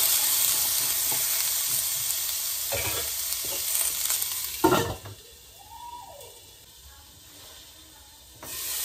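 Potatoes and peas with turmeric are stirred in a hot pan, a hissing sizzle with scraping knocks that fades into a quieter simmer, then a lid or utensil clatters near the end.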